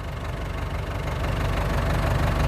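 A backhoe engine runs steadily nearby while a dead tree is dug out around a driveway, giving a loud, continuous low rumble with a faint knocking pulse throughout.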